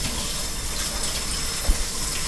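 Cold tap water runs over freshly boiled eggs, a steady, even rush and splash that holds at one level throughout, close by, with no voices.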